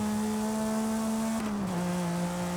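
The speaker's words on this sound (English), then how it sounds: "flat 6 always sounds really good" A Porsche 911 flat-six engine in Forza Horizon 5 holds a loud, steady, tonal drone, then its pitch dips slightly midway as it settles, continuous and close with no talking.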